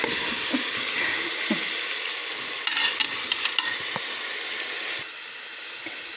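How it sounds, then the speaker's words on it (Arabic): Meat searing in a hot pan over high heat, a steady dense sizzle with occasional stirring clatter, heard up close with no talk. "هنا نقلبوا اللحم تاعنا حتى يتحمر، ما ديروش على نار هاديه، ديروه على نار عاليه"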